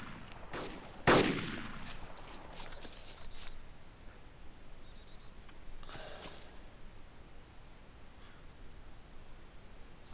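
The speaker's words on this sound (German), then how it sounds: "Da schießt noch jemand." Gunfire in the DayZ Epoch mod video game: one sharp, close shot rings out, followed a few seconds later by fainter, more distant shots over a quiet background hiss.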